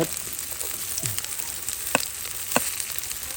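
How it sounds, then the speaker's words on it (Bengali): Onion and garlic sizzle in hot oil in a pan, a steady bright frying hiss with a few faint scraping stirs and small pops, close and even throughout. "তেল গরম হয়ে গেছে পেঁয়াজটা দিয়ে দেব রসুনটা দিয়ে দেব"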